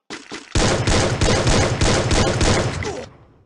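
AWM sniper rifle fire in the Free Fire mobile game, loud rapid bursts of gunshots in quick succession lasting about two and a half seconds after a couple of sharp opening cracks.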